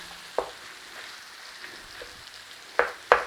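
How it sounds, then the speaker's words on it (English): Pork and beef mince frying with onions and garlic in a pan for Mexican chili lasagna, a quiet low sizzle broken by a few sharp scraping stirs, the loudest near the end. "Stir through your onions and garlic and just start to work your meat in the pan"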